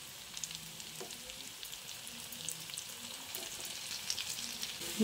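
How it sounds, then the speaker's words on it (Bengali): Flattened rice cutlets shallow-frying in oil over a low to medium flame, a soft steady sizzle with faint crackles and small pops throughout, quiet and close with no voices. "লো টু মিডিয়াম ফ্লেমে কাটলেটগুলোকে উল্টে পাল্টে ভেজে নেবেন।"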